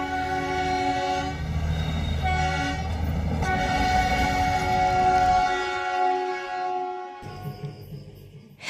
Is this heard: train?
yes